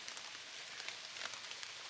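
Light rain falling over a forest camp, a soft, even hiss of drops on surfaces, faint and continuous, with no voices.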